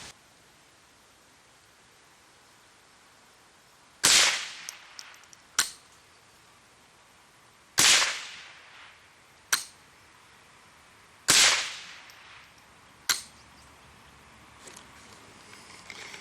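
A Ranger .22 click-clack rifle fires three sharp, loud shots at evenly spaced intervals, each followed a moment later by a fainter metallic click, with quiet outdoor background in between.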